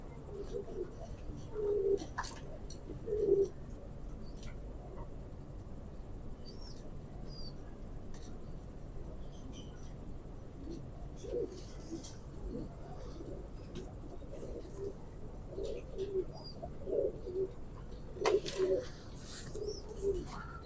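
Pigeons, including a strong teddy-type male, coo softly in repeated short throaty bursts against a quiet background, with faint chirps and occasional brief rustles and knocks close by.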